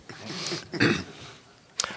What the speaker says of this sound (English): let me apologize for the cough. I do have a cough